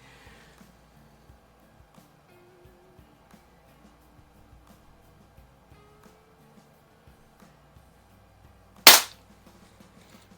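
A Gamo Compact air pistol fires a pellet once, a single sharp loud crack near the end after a long quiet stretch of faint small clicks.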